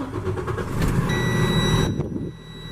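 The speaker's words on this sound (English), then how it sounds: "We're going to fire it up here for you to take a listen." Diesel engine of a 2012 Freightliner M2 106 flatbed truck cranking and firing up, a loud close rumble that swells after a second of starter whir, then settles into a lower idle.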